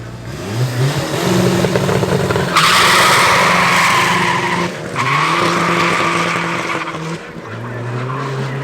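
A front-wheel-drive Cupra race car in a class B final at Midvaal Raceway skids with long, loud tire squeals over a revving, shifting engine, close and sustained with brief dips in pitch.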